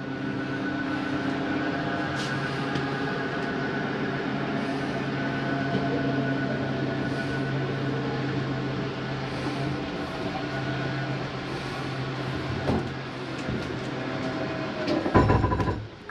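A slide-out on a Mesa Ridge 2402BH RV retracts with a steady mechanical motor drone and grinding hum that runs unbroken for about sixteen seconds, ending with a brief louder shift as it stops; no voices.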